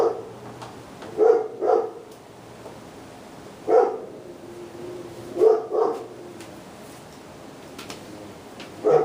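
A neighbor's dog barking outdoors in a residential setting, several separate single and paired barks at a moderate distance, spaced out over a quiet background.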